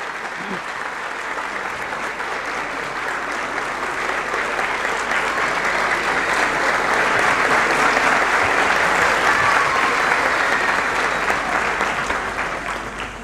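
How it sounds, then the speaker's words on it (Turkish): Concert audience at a Turkish folk music concert applauds to welcome the conductor onstage: dense, steady clapping from a large crowd that swells toward the middle and eases slightly at the end. "değerli şefimiz Onur Kıvılcım Suru alkışlarınızla huzurlarınıza davet ediyorum"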